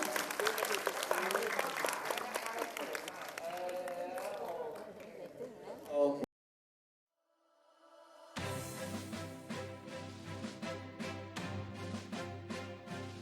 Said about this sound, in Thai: ปรบมือทุกทุกท่านเลยครับ